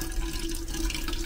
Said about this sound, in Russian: Как-то не очень вода идет.